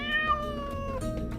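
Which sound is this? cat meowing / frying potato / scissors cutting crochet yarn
cat meowing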